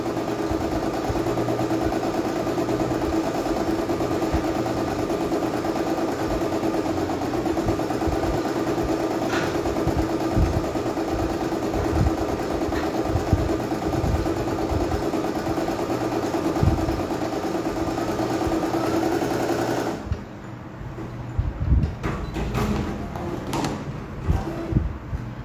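An embroidery machine stitches a design in white thread with a fast, even mechanical whir and chatter that runs loud and unbroken for about twenty seconds, then stops, leaving quieter handling clicks.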